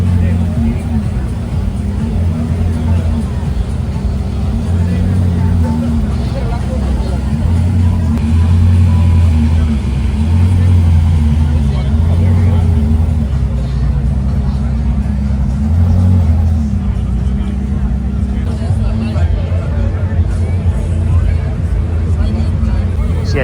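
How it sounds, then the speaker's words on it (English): Koenigsegg Jesko Absolut hypercar in blue carbon fiber with gold accents pulling in at an Orange County car gathering, a deep, steady low engine rumble beneath constant crowd chatter and nearby talking. "we have a Jesko Absolut pulling in, finished in blue carbon fiber with gold accents"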